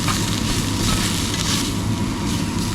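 Curry powder and ground allspice sizzle in a pan for a Caribbean beef curry. The frying is steady, close and continuous, with stirring.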